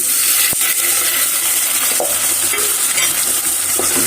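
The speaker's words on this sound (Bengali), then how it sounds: "ভালোভাবে মিশিয়ে নেব।" Lentils are stirred into garlic pieces frying in a pan. Loud, close oil hiss runs under the stirring, with a few sharp utensil knocks against the pan and no talking.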